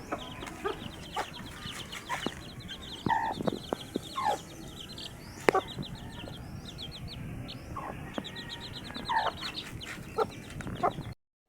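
A mother hen clucks in repeated short bursts while being fed in hot weather, with other fowl calls scattered through and a steady outdoor background; the clucking is close and fairly clear throughout.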